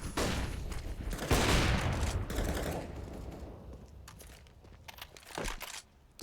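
Counter-Strike gunfire on the Overpass map fills a match between pro teams. Rapid rifle bursts crackle loudly at first, then thin out into scattered shots and lighter clatter.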